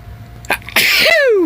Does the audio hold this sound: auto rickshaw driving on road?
no